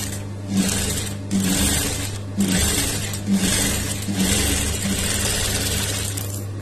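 A sewing machine stitches the lining of a large piece of cloth during neckline tailoring, its motor running in a steady close whir broken by rhythmic bursts of faster stitching.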